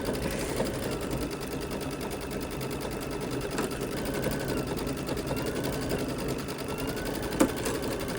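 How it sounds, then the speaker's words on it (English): A sewing machine runs steadily, stitching a witch's hat quilt edge to edge, its rapid mechanical chatter continuous and close with a faint click near the end. "She's gonna go there where it connects and start sewing."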